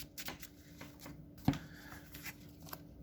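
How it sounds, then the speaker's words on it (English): A deck of trading cards for a gadget deck test is shuffled by hand in a short, soft, crisp riffle with a sharper snap near the middle, quiet and close with no talking. "I guess I didn't really have to shuffle that much"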